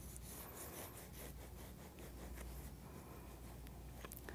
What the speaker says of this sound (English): I'm going to cut the dome off of this one using a serrated knife.